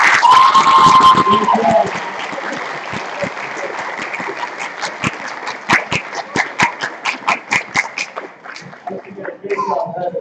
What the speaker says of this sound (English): one more round of applause for the Phil Cannon brothers